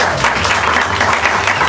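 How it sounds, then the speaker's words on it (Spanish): A short burst of loud, dense applause from a live comedy show audience in Madrid, continuous clapping throughout. "quiero pedir un fuerte aplauso para este público increíble"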